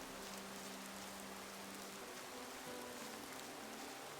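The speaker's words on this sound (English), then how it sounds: "Sound is bugging up. The rain sound." Steady rain falling in the video game Gothic 2, a dense continuous hiss that runs unbroken at an even level with no voices over it.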